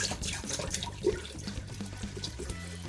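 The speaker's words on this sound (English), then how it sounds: "And it says pour as close to a gallon as you can get" Spring water pours steadily into a vessel holding steeping grains for a lager brew, a continuous close splashing gurgle lasting the whole moment.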